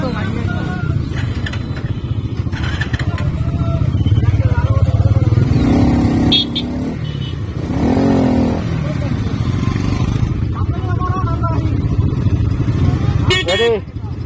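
A motorcycle rides along a road in Savar Rupnagar, its engine humming steadily throughout, with people talking over it and brief clattering bumps.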